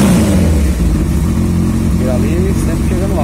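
A Honda CB 1000R motorcycle engine revs steadily and loudly at close range, running continuously at a held, slightly rising pitch for about three seconds.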